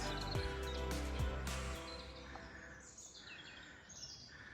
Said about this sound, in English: And to hear the birds chirping is just such a blessing